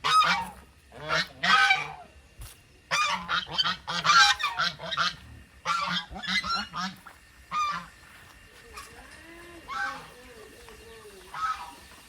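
Repeated loud goose honks in irregular bursts, close by, with softer calls trailing off toward the end.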